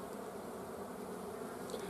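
Honeybees in a hive with only a few frames of bees, giving a steady, dense buzzing drone that holds evenly throughout at moderate level, with no voices.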